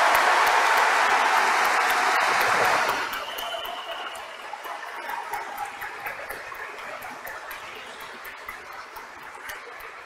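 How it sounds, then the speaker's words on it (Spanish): Church congregation applauding during a priest's installation, a loud dense burst of many hands for about three seconds, then fading into scattered, quieter clapping that trails off. "No le aplaudan mucho porque ya está muy aplaudido."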